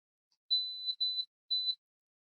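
Barisieur 2.0 coffee maker alarm clock alarm, a thin high-pitched electronic beep in three short bursts, the first two close together and the third after a brief gap, clear and alone in silence.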